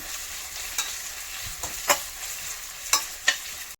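Onions frying in hot oil in a pan for egg bhurji give a steady low sizzle, broken by a few sharp scrapes and clicks of a spatula, close and moderately quiet.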